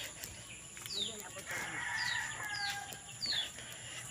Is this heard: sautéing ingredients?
no